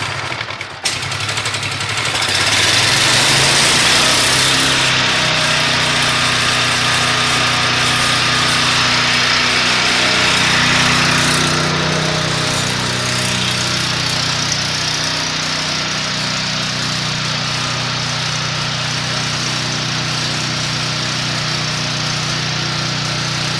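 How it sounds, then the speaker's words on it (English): The engine of a 2016 Vulcan Micro S-1 gasifier turns over and fires up after a second, then runs loud and steady with a rough, buzzing drone. Its pitch shifts slightly midway before it settles into a constant run. "Now I'm going to turn the engine over."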